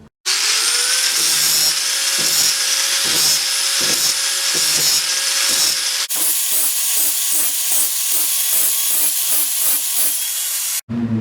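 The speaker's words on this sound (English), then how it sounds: "So I'm gonna go ahead and grind this right here and weld it in." Grinding broken metal on a Yamaha Raptor 660R quad: a loud, continuous, close-up abrasive roar with steady rhythmic pulsing that runs for about eleven seconds before cutting off abruptly, with no talking.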